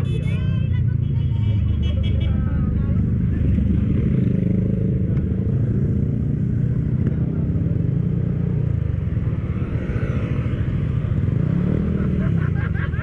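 A Raider 150 motorcycle drones steadily as it rides and banks through a turn, its engine pitch rising and falling gently, with voices faintly in the background.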